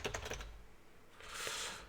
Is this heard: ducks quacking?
no